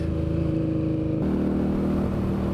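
A steady Indian motorcycle engine drones and revs, its pitch shifting upward partway through, loud and close with no voices.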